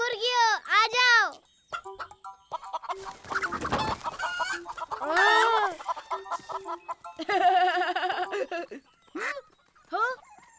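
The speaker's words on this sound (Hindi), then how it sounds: "हे मुर्गियों, आ जाओ।" Cartoon chickens cluck and squawk in a farmyard scene, with several loud bursts of animated clucking alternating with children's and adults' dialogue, the fowl calls up close and prominent.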